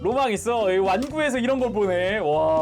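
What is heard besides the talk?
No everyday noise stands out behind the speech.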